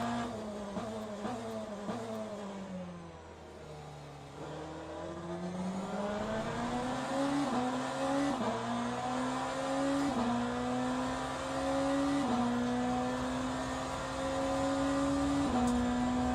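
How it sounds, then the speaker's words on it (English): A BMW M Hybrid V8 LMDh race car engine in the game Le Mans Ultimate drones steadily, pitch dipping as it slows and then climbing through several gear changes, loud and close with no talking. "listen to that pure sound of the engine"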